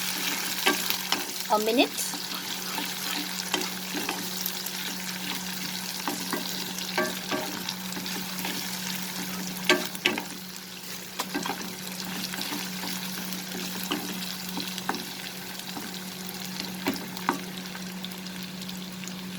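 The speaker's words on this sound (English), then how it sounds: "Lower the flame, saute the ginger garlic paste for" Ginger garlic paste sautéing over a low flame for a bitter gourd and shrimp dish, a quiet continuous sizzle with scattered clicks and light stirring, a low steady hum underneath and a few spoken words.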